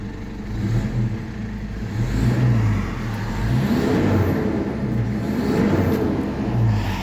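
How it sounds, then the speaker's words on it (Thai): A Ford Duratorq diesel car engine is revved repeatedly, its pitch rising and falling in several swells over a steady close rumble. "เรามาเร่งดูกันครับ"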